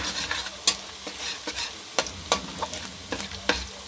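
Garlic and onion sautéing in a pan, a steady sizzle broken by sharp scrapes and knocks of a spoon stirring at uneven intervals, close up with no voices.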